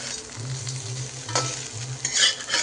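Cauliflower fries in a little oil with a close sizzle, with stirring scrapes and soft clinks coming in bursts over a low hum.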